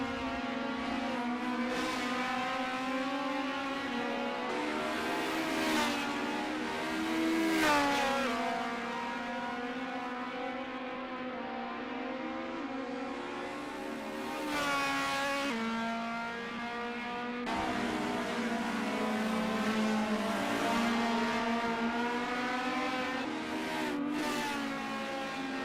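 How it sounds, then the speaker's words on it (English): Race car engines in the Assetto Corsa video game, heard from across the track at Bilster Berg, keep up a constant high buzzing drone that rises and falls in pitch like angry bees for the whole stretch, with no talk. "Turned off the limit sounds so you can actually hear cars from across the track."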